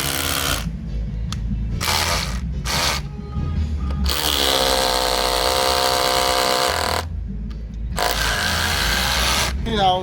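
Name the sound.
Dongcheng DCZC 13 cordless rotary hammer drilling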